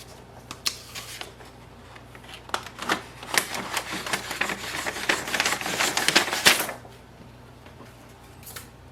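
Paper is tugged out of a jammed HP DeskJet 4300 printer in quick irregular bursts of rustling and scraping, growing busier in the middle and then stopping, with a low hum underneath.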